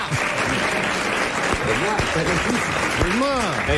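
Studio audience applause on a 1993 French television talk show, a dense wash of clapping that keeps going while several voices talk and laugh over it.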